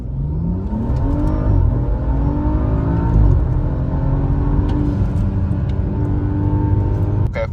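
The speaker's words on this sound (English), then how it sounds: "I think we should do a 0 to 60 test" A BMW with 125,000 miles and two people aboard, built for around 500 horsepower, roars hard through a 0 to 60 run: a loud, continuous engine rising in pitch through the gears with a brief dip at a shift.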